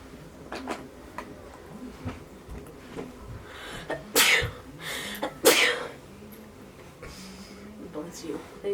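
A single person sneezes indoors during a makeup tutorial, with a sharp burst standing out amid soft rustling and handling noises, with a second short burst following shortly after.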